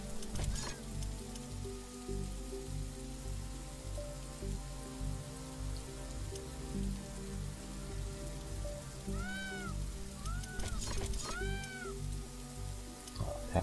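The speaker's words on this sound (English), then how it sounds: "It's raining. It will decrease the output from solar panels until it stops." Rain falls in The Riftbreaker video game as a steady patter on surfaces, with a few higher mewing creature calls rising over the continuous downpour.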